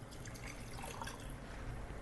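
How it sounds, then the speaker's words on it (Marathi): Strained green coriander water being poured into a glass, a steady soft trickle of liquid running continuously at close range with no voices. "आता हे जे आपण गाळून घेतलेलं पाणी आहे हे या काचेच्या ग्लासात घालायचं आहे."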